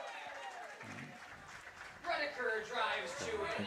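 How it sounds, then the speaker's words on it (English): Loud, boisterous crowd cheering and applauding at an American Legion Class AA regional baseball game between Waupun and Little Chute, swelling after a two-run single, with a commentator talking over the steady crowd noise. "sounds like a loud and boisterous crowd for the Waupun Legion team tonight"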